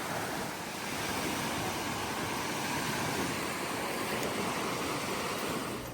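Ocean waves wash onto a beach during an outdoor walk, a soft continuous surf hiss with no distinct breaks, fairly quiet and steady throughout.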